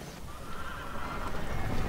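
A horse whinnies amid a battle in the strategy video game Battle for Middle Earth, a single drawn-out neigh over a noisy game soundscape with hooves faintly underneath.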